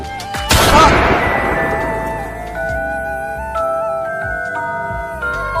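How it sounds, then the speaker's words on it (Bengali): A single loud, close gunshot cracks and booms, then rings and echoes away over several seconds inside a dramatic scene, with no voices. "আমি একে বন্দুক দিয়ে মেরেছি"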